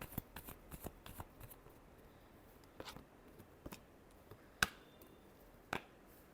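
Tarot cards being shuffled, a quiet series of sharp riffling snaps and slaps, irregularly spaced and close, with no talking.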